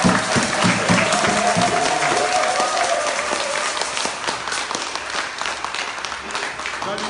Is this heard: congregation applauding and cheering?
yes